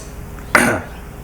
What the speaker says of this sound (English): don't know why I coughed trying to say that